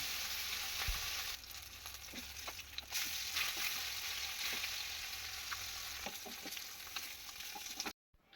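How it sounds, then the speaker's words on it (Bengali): Rohu fish pieces frying in hot mustard oil make a steady, dense hiss with occasional small pops and clinks. It is faint and continuous, with no talk, and it ends abruptly in silence. "তেলটা গরম হয়ে গেছে, দিয়ে একে একে মাছগুলো ভেজে নেব"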